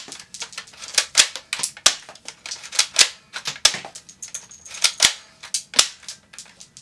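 IZOKEE soft bullet toy gun firing a quick run of six sharp snapping shots, each crisp and close, with small clicks and handling noises between them and no talking.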